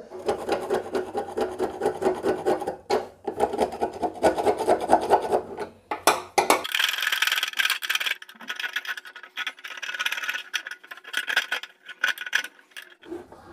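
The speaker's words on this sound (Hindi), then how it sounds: "तो इस तरीके से हम पेचकस की मदद से इसको खरोंच के साफ़ करेंगे" Screwdriver scraping dirt from inside a gas stove valve, a close, irregular rasping and scratching that shifts in tone partway through and continues in short rough strokes throughout.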